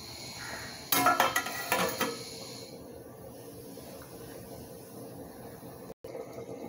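A metal lid clatters and scrapes as it is lifted off a pot of simmering chickpea curry, a brief burst of rattling near the start followed by a quiet kitchen hiss.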